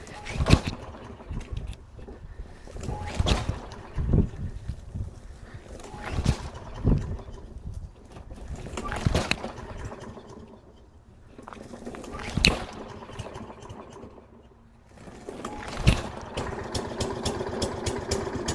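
A petrol lawn mower during spring maintenance is pull-started after priming, with a series of rough cord pulls roughly every three seconds, each bringing a brief sputter of the engine before it fades, close by.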